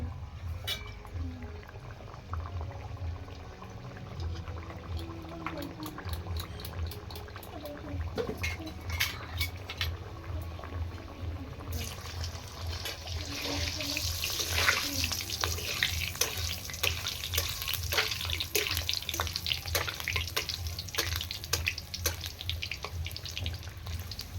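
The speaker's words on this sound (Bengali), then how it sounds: "দেখুন তেলটা গরম হয়ে গেছে আমি দিয়ে দিলাম কুচিগুলো" Chopped vegetables hitting hot oil for a vegetarian pumpkin dish: a low hum gives way midway to a loud, dense crackling sizzle that swells and holds steady, close by, with no talking.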